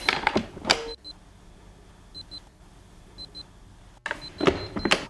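Short paired error beeps repeat softly from a Cuisinart Burr Grind & Brew 12-cup coffeemaker, set between louder bursts of clatter at the start and end, with no talking.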